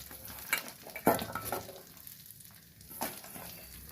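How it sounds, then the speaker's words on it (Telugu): Onion pieces hit hot oil in a pan for Andhra-style prawn fry, giving a brief, soft crackling sizzle with a few clinks and scrapes of stirring and no talking. "కొంచెం ఆయిల్ పోసి ఉల్లిపాయ ముక్కలు వేయాలి"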